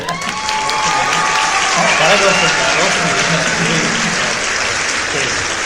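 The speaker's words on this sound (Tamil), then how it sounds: "அனைவரும் கரகோஷங்களை எழுப்புங்கள்" Sustained applause from an audience fills the clip, a dense steady clatter of many hands clapping with some crowd murmur underneath.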